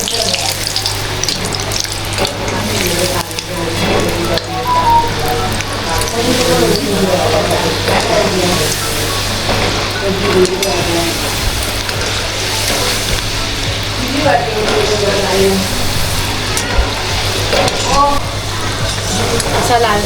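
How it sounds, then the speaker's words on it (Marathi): Shankarpali sweets deep-frying in oil over a low gas flame, giving a steady soft bubbling sizzle with a low constant hum beneath, under a voice talking. "पण स्लो गॅसवरती तळायचं."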